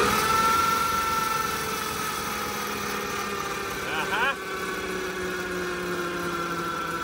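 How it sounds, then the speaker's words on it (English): A two-stroke Detroit Diesel engine that sat unused for more than six years is cranked over, producing a steady, close mechanical drone with a short shift in pitch partway through. "crank this thing over a little bit more and hopefully we see some fuel come out there"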